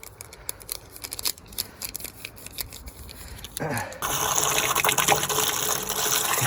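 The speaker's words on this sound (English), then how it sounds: "Give it a quick rinse down. Get some of the hops off." A few clicks of handling, then water gushes and splashes steadily as hops are rinsed off homebrew equipment into a bucket, loud and close.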